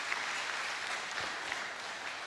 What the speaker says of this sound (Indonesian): Tepuk tangan buat Pak Wali Kota kita nih.